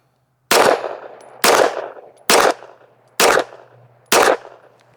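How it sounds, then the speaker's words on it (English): Five loud, sharp gunshots from a .22 pistol with a red dot sight, fired at a target 25 yards away with CCI Blazer ammunition, spaced about a second apart, each followed by a brief echoing decay. "Let's shoot a 10-shot group, see how it does."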